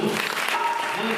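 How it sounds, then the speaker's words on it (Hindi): Loud, continuous applause from an audience at a women's religious satsang gathering in Jalandhar Cantonment, filling the whole short moment with dense clapping. "इन तीनों बहुत जोर से ताली हो जाएगी"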